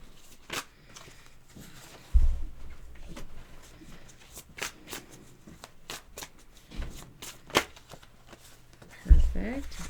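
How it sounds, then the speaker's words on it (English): Tarot cards are shuffled in quick riffling bursts with scattered taps and thumps, close up, with occasional low bumps. "I'm looking for 4 and 3, and then I will stop shuffling."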